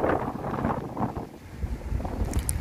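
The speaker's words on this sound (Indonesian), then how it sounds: "Anginnya masih gemuruh sekali ya," Strong wind roaring steadily in the open at night in Hong Kong, a loud continuous rumbling gust buffeting the microphone with no speech.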